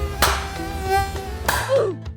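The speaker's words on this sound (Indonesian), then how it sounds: "Wah, nyamuk banyak nih." Mosquitoes whine close by in a thin steady buzz with wavering pitch, alone without talk, and a few sharp taps stand out over the drone.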